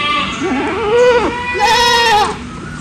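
Goat kids bleating loudly and close, several wavering cries overlapping in quick succession, one higher and shriller near the end.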